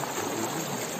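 Water flows steadily near Busay Falls in Albay, a soft, continuous hiss of rushing stream water with no talk.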